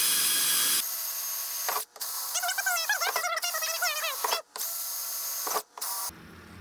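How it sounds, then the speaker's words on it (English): A drill with a 1/4-inch bit bores holes in snowmobile plastic or fiberglass, giving several steady high whining bursts broken by brief pauses, close and loud with no talking. "We got a 1/4-inch drill bit. Probably could be a little bit smaller, but I'm not too worried about it. So start drilling some holes."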